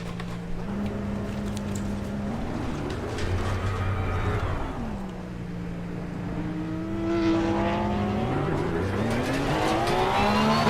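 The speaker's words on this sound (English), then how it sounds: "That sounded nice when that Porsche went by." A Porsche race car in Assetto Corsa Competizione sweeps past, its engine note climbing and falling as it approaches and recedes, with other race cars droning steadily and no talk.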